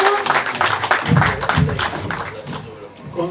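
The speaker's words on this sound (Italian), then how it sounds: "Un applauso." Applause at an award ceremony, a brief burst of many hands clapping together in a hall, dense and fairly loud, fading slightly toward the end.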